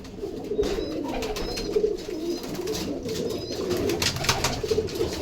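A large flock of domestic pigeons keeps up continuous overlapping throaty coos nearby, with occasional wing flutters and faint chirps mixed in.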